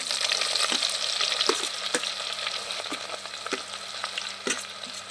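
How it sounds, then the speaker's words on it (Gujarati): Loud, constant sizzling of onion frying in hot tempering oil, with a spoon clattering and scraping in the pan over a low steady hum. "આ વઘાર નાખીએ આ ડુંગળી નાખી દઈએ"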